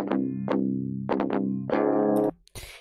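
An electric guitar run through Guitar Rig with added distortion plays a few plucked notes and a ringing held chord, each attack sharp with a decaying buzzy sustain, then cuts off into a brief noisy scrape.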